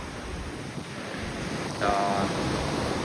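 Strong wind and ocean waves on the open deck of a cruise ship sailing near Cuba and Guantanamo Bay; a constant broadband rush of wind and surf, with a brief spoken word and a short tonal sound partway through.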